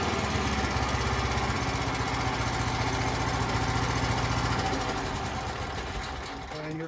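A DuroMax XP10000EH dual fuel hybrid generator runs with a loud, steady, buzzing engine drone that settles toward a low idle and barely changes in level.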